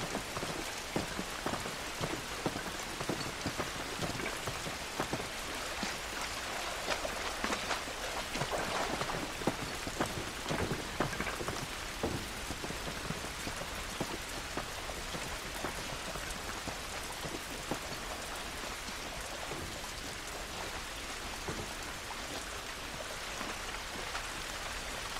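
Rain pours steadily outdoors in the video game The Last of Us, a dense, even patter of drops on surfaces that holds constant without a break, with no talking over it.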